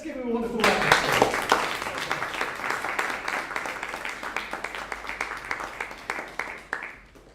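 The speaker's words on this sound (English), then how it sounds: "Let's give him a wonderful round of applause" Audience applause after a singer's performance at a music masterclass, a dense burst of clapping that swells quickly, holds steady, then thins and fades over several seconds.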